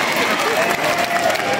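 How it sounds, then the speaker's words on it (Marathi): Audience applause at a public speech event in Kopargaon, a dense, steady wash of clapping from a large crowd throughout, loud and close, with some cheering mixed in. "एकदा आपल्यासाठी स्वतः टाळ्या हो द्या"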